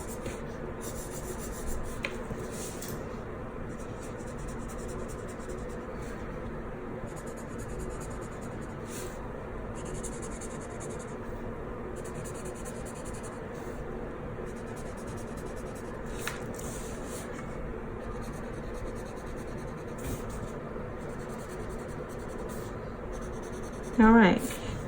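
Pen scribbling across the pages of a bullet journal during a spread setup, a steady soft scratching and rubbing that runs the whole stretch at close range, with a brief louder knock near the end.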